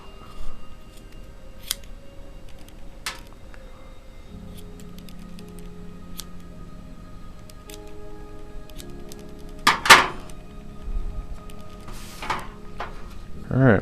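Scattered clicks and snips of scissors working through paracord, with a couple of sharper cuts, against a quiet room background.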